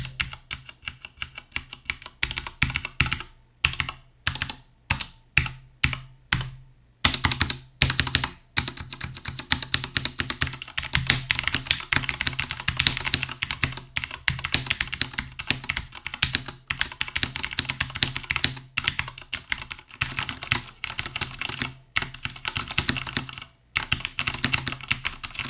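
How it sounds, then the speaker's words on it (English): A mechanical keyboard fitted with a sound dampener is typed on up close, producing crisp, solid clacks in quick irregular bursts, with a few separate keystrokes followed by steady rapid typing and no voices. "it feels very, very nice when you're typing on it"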